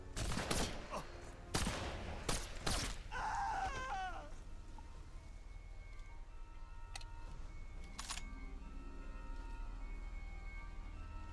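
Several loud rifle shots from the Sniper Elite Resistance video game, clustered in the first few seconds with sharp cracks. A wavering cry follows, then a low steady rain-like ambience and a faint later impact.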